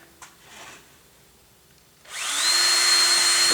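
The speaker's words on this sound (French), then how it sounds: "percer un trou." A power drill bores a hole in a piece of wooden furniture, starting abruptly and then whining loud and steady at close range after a brief quiet lead-in.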